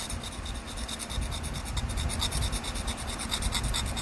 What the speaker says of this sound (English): This is just regular old cheap sandpaper you get off a rag at Walmart.